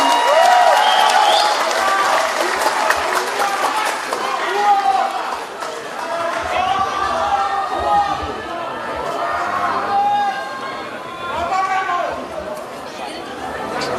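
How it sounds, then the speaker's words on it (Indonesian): A seated crowd at a political declaration event for a presidential candidate in Indonesia breaks into sustained applause mixed with chatter and scattered cheers, a broad roar that ebbs and swells for many seconds while voices call out over it. "Berikan tepuk tangan yang meriah."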